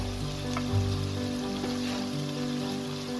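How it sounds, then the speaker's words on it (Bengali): Spice masala with cumin powder, Kashmiri red chilli powder and salt fries in a pan for egg curry, a steady close crackling sizzle that holds through the whole stretch with no voices. "এই মশলাটাকে খুব ভালো করে আমি কষাবো।"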